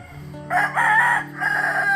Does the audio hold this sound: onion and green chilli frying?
no